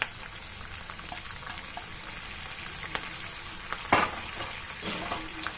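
Chana dal and peanuts frying in oil for a mango rice tempering, a soft, steady crackle with occasional stirring clatter and a louder spoon knock partway through.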